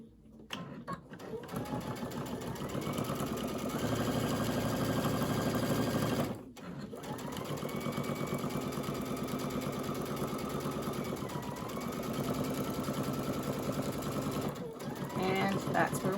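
A sewing machine stitches quilt binding in long steady runs, its motor whirring and needle chattering close and loud, with short pauses between bursts.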